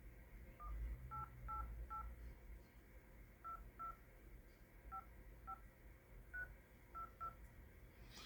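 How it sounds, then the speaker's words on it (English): Phone keypad dialing tones as a call is placed, a string of about a dozen short, evenly clipped beeps in irregular groups, fairly clear over a low background hum with no talking. "So right when I place this phone call"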